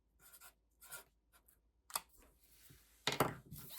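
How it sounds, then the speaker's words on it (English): Pen strokes scratch across paper close up while a letter and a number are jotted down, in short bursts of quick scribbling separated by brief pauses. "I'll just write M for Max and I'll write 90."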